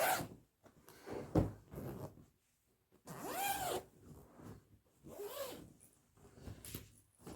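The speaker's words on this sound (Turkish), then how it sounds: "Şimdi birlikte isterseniz hurcumuzu açalım." Close, quiet rasps of a zipper opening the zippered storage bag of a Kista Baby Cloudy baby sleep set, in several short pulls with pauses between them.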